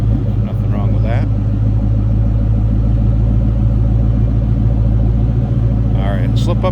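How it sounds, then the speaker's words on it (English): A 2003 Ford Mustang SVT Cobra Convertible idles with a deep, throaty rumble from an opened-up exhaust, steady and close with a few brief mechanical clicks. "you hear this run, nice throaty exhaust on it"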